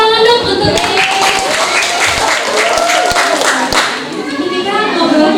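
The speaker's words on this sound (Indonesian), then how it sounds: "Tepuk tangan dong untuk" An audience at a young researchers' talk on contemporary dance claps, a loud, close, sustained patter of hands mixed with overlapping voices and some high, child-like speech.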